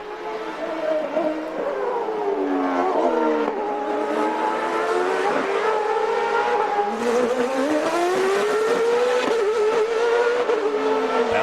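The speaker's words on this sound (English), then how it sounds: "bouncing along that washboard, traction control working. Up through the gearbox, 7 speeds to 188 miles an hour." CART open-wheel race car during qualifying at the Long Beach street circuit, its engine screaming and rising as it climbs through a seven-speed gearbox, pitch sweeping up and dropping at each shift, loud and continuous throughout.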